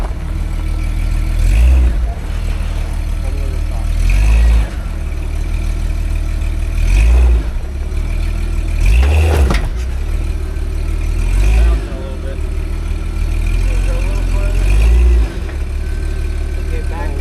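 A Jeep engine climbs an RTI ramp, its steady mid-pitched drone swelling into loud periodic revving pushes every few seconds, close by, with voices talking over it.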